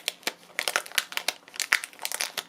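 Dry, crinkly rubbing strokes from a bone folder pressed over a rub-on transfer on a journal page, a close run of short scratchy swipes at an uneven pace with no talk.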